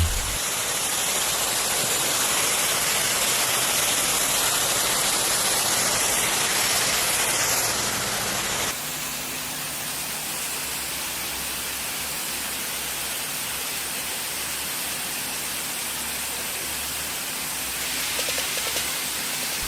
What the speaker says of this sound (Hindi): चलो अब शावर में थोड़ी मस्ती मारी जाए, थोड़ा नहा लिया जाए।